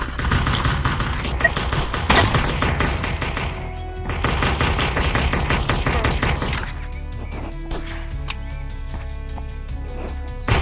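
Rapid bursts of gunfire in the video game Animal Rivals, loud, close machine-gun-like volleys with brief pauses between them, then scattered single shots and impacts toward the end.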